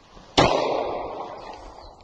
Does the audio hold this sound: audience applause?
no